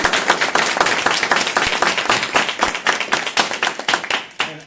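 Audience applauding at a solidarity speaking-tour event in Boston, a dense burst of many hands clapping close by that slowly thins out toward the end, with no talk over it.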